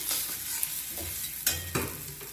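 Spice masala fries in oil while being stirred for a Bengali prawn malai curry, making a close, continuous sizzle broken by a few scraping strokes of the spoon in the pan.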